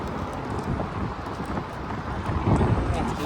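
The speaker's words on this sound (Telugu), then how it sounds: "ధూళి గాలి ఈరోజు భయంకరంగా ఉంది కువైట్లో" Dust storm wind blowing in Kuwait: a loud, steady broadband roar with rough buffeting against the microphone, swelling stronger toward the end.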